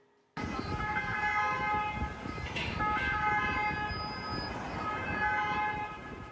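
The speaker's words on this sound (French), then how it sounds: "Devant la préfecture, les sirènes résonnent." Horns sound repeatedly outside a prefecture building, with ambulances blaring in protest: loud, sustained, overlapping wailing tones held over steady crowd and street noise for several seconds.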